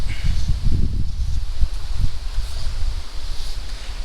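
Gusty wind roars and buffets the microphone outdoors on a fly fishing trip, a low rumbling rush that stays loud and continuous with faint rustling on top.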